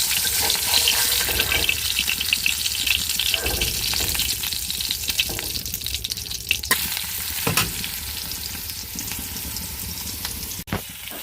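Eggs frying in a pan at home, a steady close sizzle with occasional clinks and stirring scrapes, continuous throughout with no talking.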